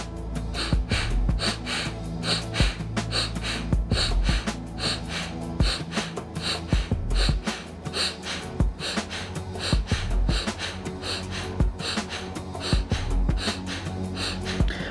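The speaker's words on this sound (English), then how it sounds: "It's a rapid, powerful pace, syncing the breath with the movement." Rapid, forceful rhythmic breathwork from a beginner yoga session, with quick powerful inhales and exhales synced to movement. The breaths repeat steadily and close up over continuous background music, with no talking.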